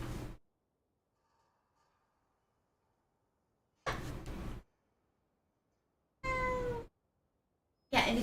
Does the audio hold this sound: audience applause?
no